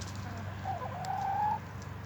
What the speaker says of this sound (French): Et il y a les poules.